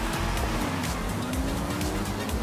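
Race car engines roar steadily in a racing video game running on a gaming PC with an i3 8100 and GTX 970, a continuous loud drone with rising engine pitch and faint tire noise throughout.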